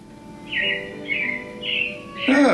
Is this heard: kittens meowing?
no